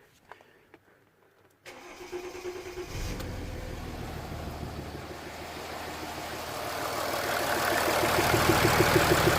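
A Mercedes S-Class W221 engine with a glow plug fault cranks and starts, then settles into a steady idle that grows slightly louder, rumbling close by without speech.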